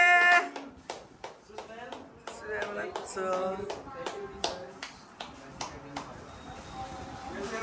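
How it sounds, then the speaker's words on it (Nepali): Hands clapping at a bakery farewell gathering, a run of sharp, irregular claps spread over several seconds while people talk and call out between them. "ताली ताली ताली"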